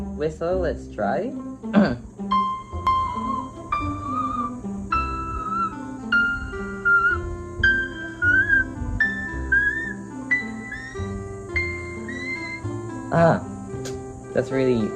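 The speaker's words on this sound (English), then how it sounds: "Whistle, let's try." A man whistles a very high, squeaky note around C7, the pitch wavering in short sustained bursts, with his speaking voice and breaths mixed in between.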